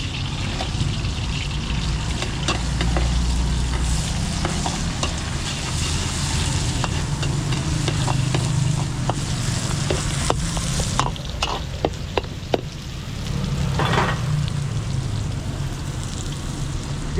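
Garlic and onions frying in a pan for a catered Filipino dish, a steady close sizzle with frequent scraping and clinking of a spatula as the pan is stirred.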